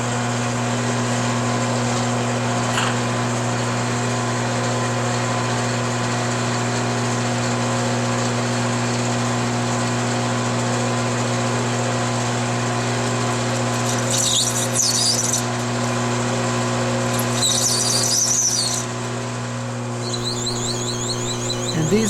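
A lathe trues up the ends of PVC pipe legs with a steady, loud mechanical hum and drone, joined midway by a few short higher-pitched scraping bursts of cutting.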